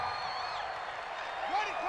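Dense, steady roar of a large stadium crowd at an Arizona Cardinals vs. Dallas Cowboys NFL game in Arizona throughout, with some cheering swells and indistinct voices rising near the end.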